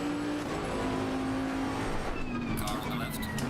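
A GT3 race car in a racing video game passes close on the left, its engine whine sliding in pitch over the steady drone of the player's own car, with loud continuous engine noise throughout.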